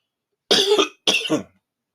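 Two quick, close coughs in succession, loud and dry, separated by a brief pause, with silence around them.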